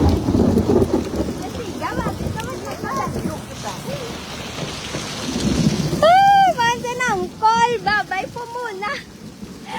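Heavy thunderstorm rain on a night in Manila, a constant wash of downpour with low rumbling, while people talk over it nearby throughout.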